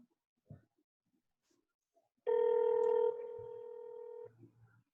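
Telephone dialing tones sound while placing a call: a couple of faint short touches, then a loud steady tone lasting about two seconds before dropping in level, close and clear in a quiet room.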